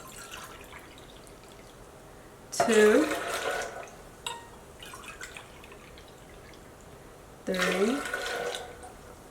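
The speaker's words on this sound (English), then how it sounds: "And then I'm gonna measure out 4 cups of water." Cups of cold sterile water are poured one at a time into a blender to make plant-based milk. Two separate gurgling, splashing pours are heard, with a voice counting in between.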